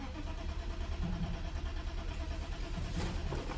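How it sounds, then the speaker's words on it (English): The starter of a barn-find BMW E34 520i, sitting unused for 15 years, cranks continuously without the engine firing, a steady mechanical churn that stays even and moderately close. "The starter works. But the engine didn't fire up."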